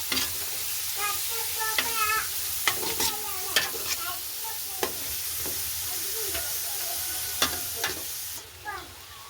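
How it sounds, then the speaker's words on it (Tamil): Scraped carrot tossed into a hot pan and stirred: close sizzling and frying with repeated clattering scrapes of a spoon against the pan, the stirring quieting toward the end. "கேரட்டை சேர்த்துக்கொள்ள போகிறோம். அதையும் மிக்ஸ் பண்ணி விடுவோம்."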